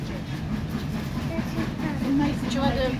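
A steam train running from Minehead to Watchet rumbles steadily from inside a carriage, a continuous low rolling drone with faint rail clatter, and a voice speaks over it.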